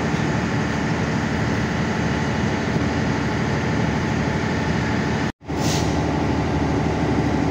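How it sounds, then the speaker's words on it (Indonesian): KA Ranggajati passenger train running on rails near Nganjuk station, a loud continuous rumble and rattle from inside, with a sudden brief dropout near the end before the noise resumes. "Perjalanan kereta api Ranggajati tiba di stasiun Nganjuk."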